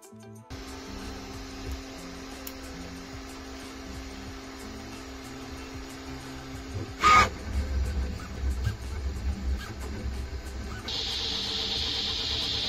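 A Creality Ender 3 V3 KE 3D printer runs a fast print job, its stepper motors whirring in shifting tones under a steady fan hum, with a sharp click partway through and a hissier fan noise rising near the end.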